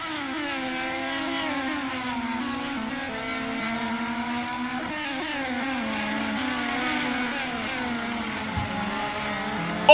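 An IndyCar engine in a racing video game revs high and continuously, its pitch sweeping up and down through shifts with other cars' engines layered in. The sound is loud and steady throughout, and no one talks.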